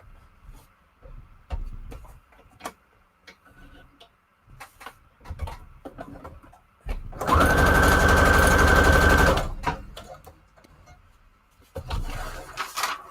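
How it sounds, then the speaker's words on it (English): A sewing machine stitching paper together, a loud steady rapid burst of about two and a half seconds, followed later by a shorter run, with quiet clicks and handling sounds around it. "so let's sew this together"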